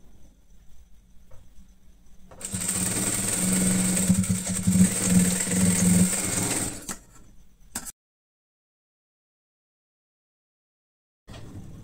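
Sewing machine running steadily for about five seconds while stitching a blouse shoulder seam, a close, loud mechanical whir with a low hum, then a brief tail-off and silence.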